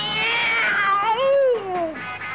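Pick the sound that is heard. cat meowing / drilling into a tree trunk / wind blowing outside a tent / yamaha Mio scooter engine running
cat meowing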